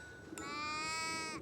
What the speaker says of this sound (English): in Tudor times, there were sheep everywhere.